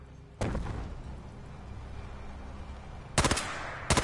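Gunfire erupts in a battle in Fallout 4: one loud burst near the start, then after a low rumbling lull two sharp bursts close together near the end.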